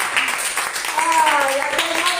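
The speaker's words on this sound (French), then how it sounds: "Alléluia, on peut l'applaudir." Congregation applause at a church Sabbath service, a brief steady burst of clapping mixed with talking voices.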